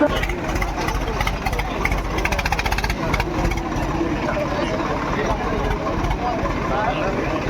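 A tractor engine runs nearby with a steady, throbbing low rumble, and people talk over it.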